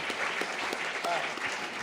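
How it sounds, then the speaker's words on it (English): Brief applause from the audience at the First Nations Media Awards, a short, steady patter of clapping from a moderately distant crowd. "So give everybody a round of applause"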